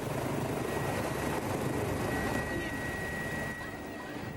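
One of several South African rescue helicopters flying over a town under nearly 20 feet of floodwater, giving a steady, loud rotor and engine drone that holds throughout with a faint background voice, heard from a worn old news recording.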